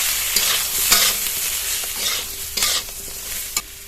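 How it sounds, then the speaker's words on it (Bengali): Vegetables stir-frying in hot oil with nigella seeds, slit green chili, salt and turmeric, a steady close sizzle broken by several louder scraping stirs of a spatula. "এবার এর মধ্যে ভেজে রাখা সবজিটা দিয়ে দেবো।"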